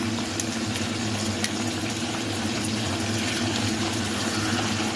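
Pork chops frying in an uncovered pan, a dense, steady sizzle that holds loud and close for the whole stretch, with only faint pops rising above the constant crackle.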